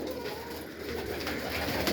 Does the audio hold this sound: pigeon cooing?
yes